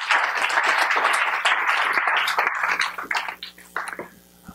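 An audience at a talk on mobile creative sound strategy applauds two speakers, loud close clapping that is dense at first, then thins and tapers into scattered last claps as it dies away.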